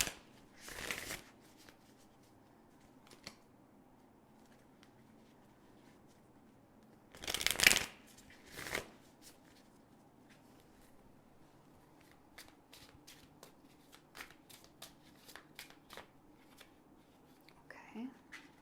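Tarot cards being shuffled close up, with a few loud riffling bursts separated by quieter handling, tapping and flicking of the deck, all in a quiet room.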